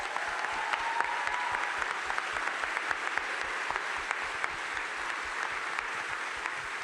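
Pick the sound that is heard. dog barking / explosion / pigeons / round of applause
round of applause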